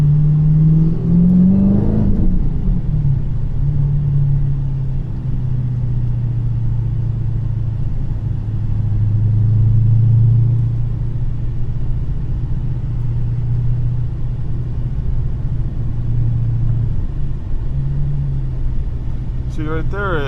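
A 426 Whipple-supercharged Hemi car engine idles with a deep, steady rumble, loud and close, its pitch wavering as it struggles and threatens to stall, with a brief rev near the start.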